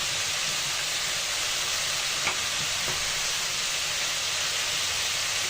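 Chopped carrots fry with potatoes in a pan, a loud, even hiss of sizzling oil that fills the clip, with a couple of faint stirring scrapes and no talk.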